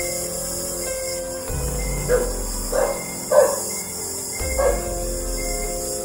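A dog barks four times at irregular intervals, moderately distant, over a steady background hiss with no talking.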